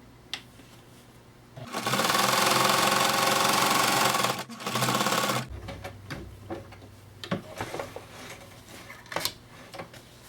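A sewing machine stitches a fabric pencil case in a loud, steady run of nearly three seconds, pauses briefly, runs again for about a second, then gives way to quieter clicks and handling of the fabric.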